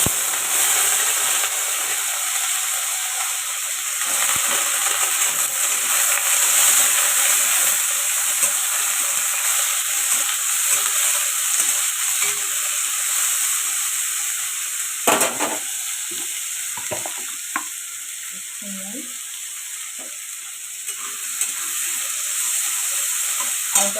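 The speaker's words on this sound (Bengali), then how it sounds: "হালকা ভাজতে থাকবে।" Potatoes frying lightly in hot oil for a Bengali fish curry give a loud, continuous sizzle close by, broken midway by a few sharper clatters as the pan is stirred.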